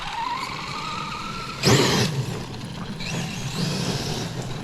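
A Kyosho FO-XX RC car with pale tyres running outdoors at Sacré-Coeur, its electric whine rising and falling, with a loud gritty burst of tyre scrabbling midway.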